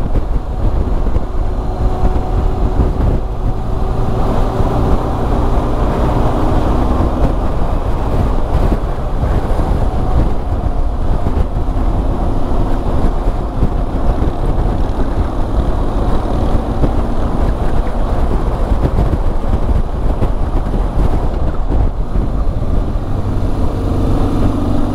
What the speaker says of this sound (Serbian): Vetar.